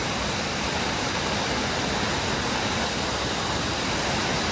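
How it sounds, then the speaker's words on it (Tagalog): Kaparkan Falls in Abra, a constant loud roar of falling water with dense, even broadband hiss and no pauses or talking. "nandito na kami sa falls"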